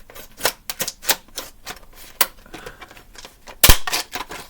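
Sharp, crisp snips and clicks of scissors cutting through stiff card toy packaging, irregular bursts up close with a louder snap near the end.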